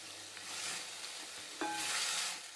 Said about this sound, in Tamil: இந்த நெய்யிலேயே இது நல்லா வதங்கணும்.